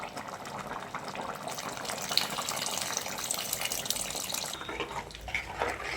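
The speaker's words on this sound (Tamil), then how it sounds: "புளி தண்ணி சேர்த்து நல்லா கலந்து விட்டுக்கலாங்க" Tamarind water pours and splashes into a pan of dry fish curry, a steady running gush with no voices.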